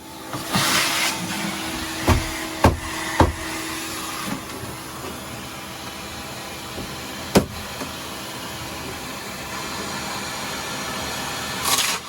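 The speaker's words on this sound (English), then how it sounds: "The vacuum is doing a great job keeping the dust under control" A vacuum cleaner runs steadily to catch dust from a power tool during work aboard a sailboat. Its constant drone is broken by a few sharp knocks and taps.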